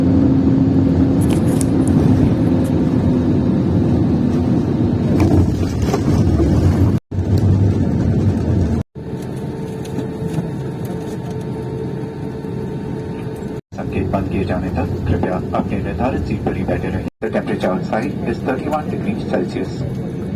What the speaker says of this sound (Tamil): ஸோ நம்ம ஃப்ளைட்டை வந்துட்டு இப்போ சென்னை ஏர்போர்ட்டில் லேண்ட் ஆக போகுது